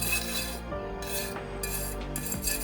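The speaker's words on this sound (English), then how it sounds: "I'm going to start with the wire brush and see how much stuff I can just get off of it with this" A wire brush scrubbing rust off a metal medieval buckler, giving repeated rasping strokes in short bursts with brief pauses, close and steady, with no talk.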